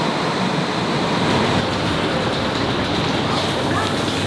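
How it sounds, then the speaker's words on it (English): A Dublin-Cork train pulls out of a station, giving a loud, continuous rumble and rolling clatter that stays steady and close throughout. "That's the Dublin Cork train leaving."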